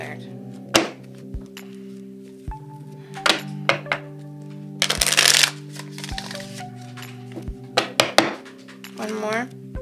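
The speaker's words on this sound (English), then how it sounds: "So let me give another shuffle" Tarot cards are shuffled with a series of sharp thunks and riffling clatters over a steady low musical drone, the bursts coming irregularly with brief pauses between.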